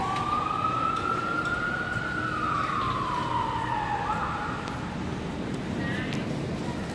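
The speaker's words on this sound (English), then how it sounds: "there's an ambulance going up there too" An ambulance siren sweeps up and then down as it passes along a street in downtown San Francisco. It sounds loud and fairly close over a steady traffic din, with faint voices in the background.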